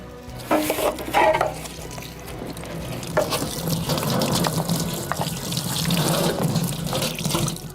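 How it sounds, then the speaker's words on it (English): Water running and splashing through a coffee wet-processing machine to wash out dirt and old beans, a steady close rushing and churning flow that builds after a few sharper splashes at the start, with no talking. "we're going to wash away part of the dirtiness of the machine"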